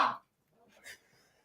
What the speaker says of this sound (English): This cough ain't from illnesses.